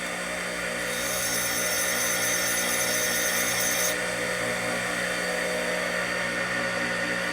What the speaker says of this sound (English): We need to grind it a little bit until it comes across the surface here.